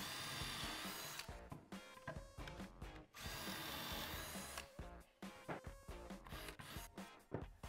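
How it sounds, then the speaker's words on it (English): Power drill boring pocket holes into 3/4 inch wood boards set in a Kreg pocket-hole jig, with loud repeated bursts of whirring drilling and short pauses between them. "then we'll drill our pocket holes"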